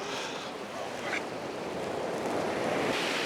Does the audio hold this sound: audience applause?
no